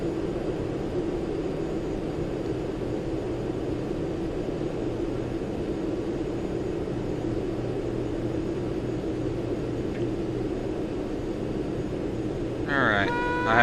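A Learjet 25 engine in the FSX flight simulator game gives a steady, loud jet drone through the whole stretch, ending with a short burst of speech.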